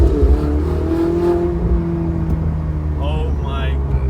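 A Ferrari F80 engine rumbles and revs nearby, a loud droning tone that swells and eases, while someone talks excitedly over it.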